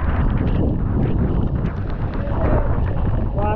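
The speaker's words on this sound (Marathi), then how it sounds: "येते वारे" Loud, rumbling wind buffeting the microphone in continuous gusts, low and heavy, with no clear voices.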